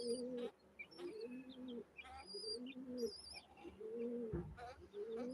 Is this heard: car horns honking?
no